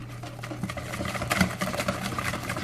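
A hand whisk beats keto chocolate cake batter in a bowl, giving steady quick scraping and tapping strokes at close range that stay fairly soft and even throughout.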